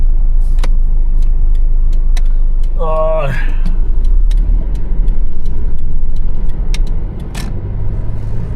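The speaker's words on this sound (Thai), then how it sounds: "ขับต่อไปบนถนนหมายเลข 2032 อีก 17 กิโลเมตร" Car driving along rural Route 2032 in Nakhon Phanom province, Thailand, with steady close engine and road rumble throughout and a brief tonal whine or horn near the middle.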